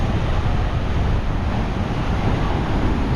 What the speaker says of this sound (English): if you can't hear wind, I'd be a bit disappointed. Naxos is extremely windy.